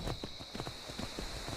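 Horse hooves clip-clopping in Skyrim, a steady run of soft hoof strikes close by over a constant ambient hum, with no talking.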